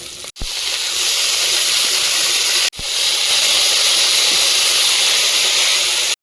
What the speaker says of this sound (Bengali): রসুনটা ভালোভাবে ভেজে নিয়েছি এবার শাকটা দিয়ে দেবো